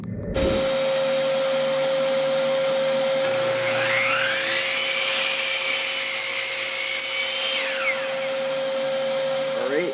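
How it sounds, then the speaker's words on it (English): A miter saw with an added dust collection improvement cuts through wood. A loud, steady motor whine runs almost the whole time, and a rising then falling cutting sound rides over it midway. No voices are heard. "I'm going to make one cut with the improvement here in, and I'm going to make one cut without it"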